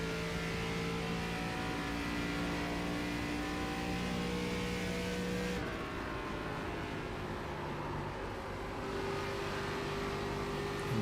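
A race car engine in the iRacing simulator, droning at high revs with steady tonal whine, then dipping as the pitch shifts and climbing again as it accelerates, loud and continuous with no talk.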